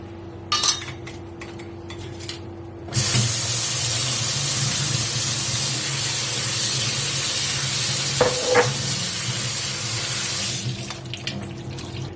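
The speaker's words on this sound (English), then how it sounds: "Now we are going to rinse and drain the coconut gel." Canned coconut gel being rinsed and drained under running tap water in a kitchen, a steady loud rush of water with clinks of a bowl and utensils at the start and end.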